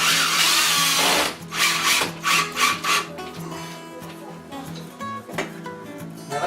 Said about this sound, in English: Now we're going to do one more screw right here.